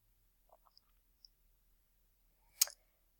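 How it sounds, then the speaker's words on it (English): A computer mouse button clicks once, a single sharp close tick after a few faint small taps in an otherwise quiet room. "Then click Continue."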